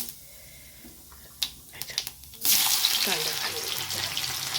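Cumin seeds hit hot oil for a Marathi tempering of methi, a loud broadband sizzle bursting in after a few soft clinks and handling sounds, then frying steadily and close.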